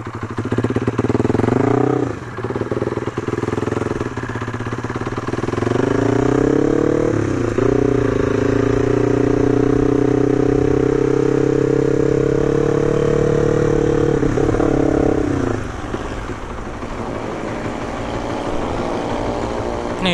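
Motorcycle engines idle and rev close by: a Honda Sonic, a Tiger and an Aerox, loud and steady with a throaty drone that rises in pitch and drops back several times.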